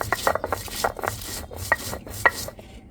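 Fried chilies and fresh coriander leaves crushed on a sharp grinding stone, heard as rough rubbing and chopping scrapes in uneven strokes, close and moderately loud with no talking.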